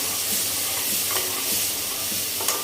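Ground masala roasts in a little oil for dhaba-style dum aloo, sizzling steadily while a spoon scrapes and stirs in the pan at close range.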